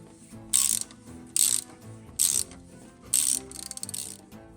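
Ratchet wrench with an extension loosening a 15 mm starter bolt on a 2000 Chevy Venture: four short, loud bursts of rapid clicking, close by, followed by a quicker trailing run of clicks.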